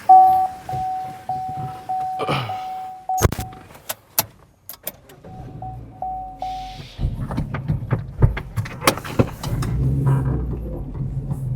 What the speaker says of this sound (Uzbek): Mashinani olib chiqamiz.